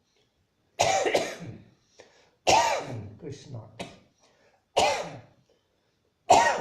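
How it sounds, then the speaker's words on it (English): Several separate coughs, sharp and close, spaced a second or two apart, with a brief spoken word among them. "there's some coughing coming"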